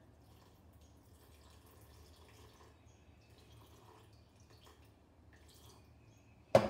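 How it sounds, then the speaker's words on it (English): Water, 100 grams for feeding a sourdough starter, trickles quietly and steadily into a container on a scale, faint and close, ending with a brief louder knock. "I'm gonna put 100 grams of water."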